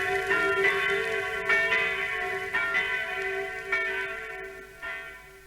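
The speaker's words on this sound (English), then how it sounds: "church bells are ringing, and the villagers are going to Mass to give thanks for their freedom" Church bells peal in a liberated Normandy village during wartime, several bright resonant strikes overlapping in a continuous ringing wash, loud and close with no voices.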